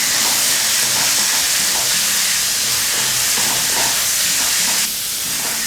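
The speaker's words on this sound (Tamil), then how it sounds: "இஞ்சி பூண்டு விழுது வந்து நல்லா குக் ஆகணும்." Ginger garlic paste fries in hot oil for masala rice, making a loud, continuous hiss and sizzle. Faint stirring scrapes run underneath, and the hiss drops off suddenly near the end.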